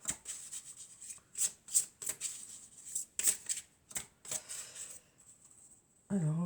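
Oracle cards being handled and shuffled in a series of crisp, riffling bursts and soft slides, close and fairly quiet, with a brief low thump near the end.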